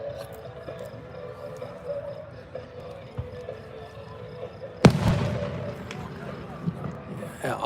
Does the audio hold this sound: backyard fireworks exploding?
yes